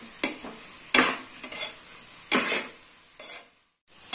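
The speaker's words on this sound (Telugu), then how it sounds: "ఈ పొటాటో ముక్కలు వేసి మరికొంతసేపు బాగా కలపాలి." Potato pieces are stirred in a frying pan for fried rice, with repeated scraping sweeps of a spoon over a soft sizzle and short pauses between strokes.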